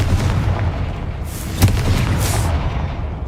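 A Confringo blasting spell goes off in Hogwarts Legacy, a single sharp boom over a dense rumbling game soundscape, with a brighter crackle trailing just after.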